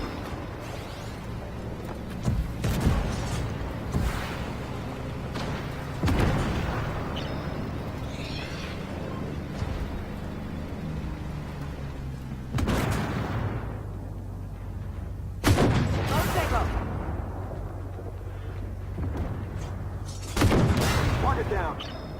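Tank cannon fire in Armored Warfare from an AMX-10RCR, with about five heavy booming shots spaced several seconds apart, each with a rolling decay, over continuous engine rumble and battle noise while someone talks throughout.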